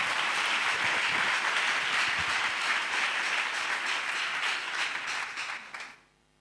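A church congregation at a Pentecost service breaks into sustained, dense applause that holds steady for several seconds, then fades out quickly near the end.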